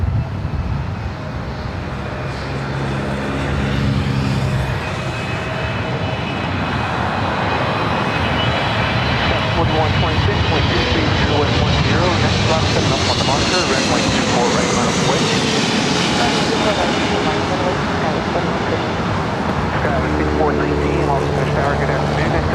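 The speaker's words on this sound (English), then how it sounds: "Cathay Pacific to 777-300ER, coming from Hong Kong." Cathay Pacific Boeing 777-300ER from Hong Kong landing on runway 24 right at LAX, its jet roar swelling and sweeping in pitch as it passes near and then easing, with people talking over it.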